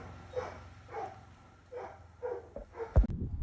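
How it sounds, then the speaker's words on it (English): A farm dog barks several times in an evenly spaced run of short woofs, fairly distant and moderate in level, followed by a louder close clunk near the end. "That's my dog's barking."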